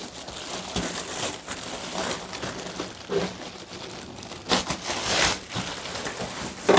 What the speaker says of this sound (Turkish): poşetinden çıkaralım